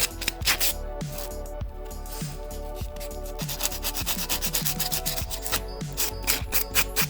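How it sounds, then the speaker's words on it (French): A nail buffer rubs rhythmically across a gel nail capsule in quick, close back-and-forth scratching strokes that repeat steadily throughout, with no talk. "On prend notre ponce."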